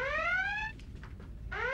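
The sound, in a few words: Star Trek red alert alarm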